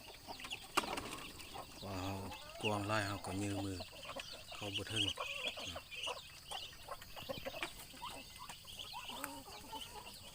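Chicks and ducklings in a nursery pen peep and cluck in short bursts, faint and fairly close, while a person talks intermittently over them.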